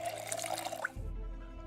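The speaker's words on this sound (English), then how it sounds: "We're also going to fill up all of these empty bottles with water" Water glugging into empty bottles in Project Zomboid, a short bubbly pouring trickle that ends in a low thud, faint and alone.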